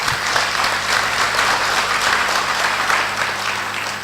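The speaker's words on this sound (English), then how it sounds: "Please give an applause of hands." Warm, even applause fills a conference hall at a closing session, a continuous wash of many hands clapping at steady volume throughout.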